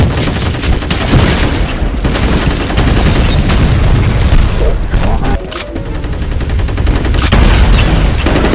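A grenade detonates in a video game amid dense, continuous gunfire, with booming blasts and rattling shots layered loudly throughout, no clear pause.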